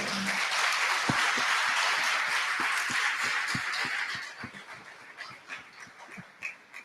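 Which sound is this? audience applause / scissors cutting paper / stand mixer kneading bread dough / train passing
audience applause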